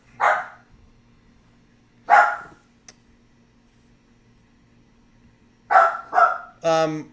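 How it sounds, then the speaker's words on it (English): A dog barks indoors in separate outbursts: a single bark, another after a pause, then a quick pair and a longer whining yelp, loud and close over a faint steady hum. "And the dog is gonna start crazy barking soon."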